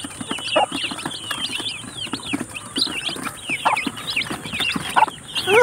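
Many baby chicks peep constantly in close, busy chirps while they peck at food and water, with a faint background hiss.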